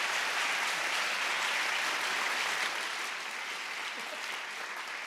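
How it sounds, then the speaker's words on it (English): Sustained applause from an audience for a guest at the end of a special programming livestream, a dense, even wash of clapping that tapers slightly toward the end. "How about another round of applause for Mike Messersmith for coming in today?"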